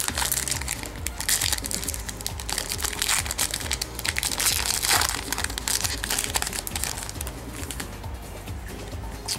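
A Yu-Gi-Oh! booster pack's foil wrapper is torn open: continuous crackling and crinkling plastic close by, busy and steady for several seconds, with no talking.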